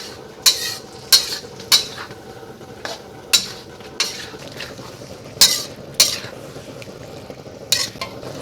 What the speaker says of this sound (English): Then spoon in some of your cornstarch slurry to thicken up the sauce.